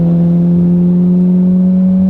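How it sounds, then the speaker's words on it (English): Chevy Corvette Z06 with its exhaust in track mode, effectively straight-piped, giving a loud, steady, droning engine tone that holds at a constant pitch right up close, with no talking. "So we're in the track mode. This is effectively straight pipe the exhaust."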